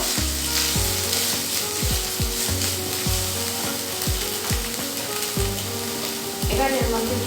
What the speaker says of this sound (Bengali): এবার এর মধ্যে দিয়ে দেবো 1 চামচ আদা পেস্ট, 1 চামচ রসুনের পেস্ট। ভালো করে মিক্স করে দেব।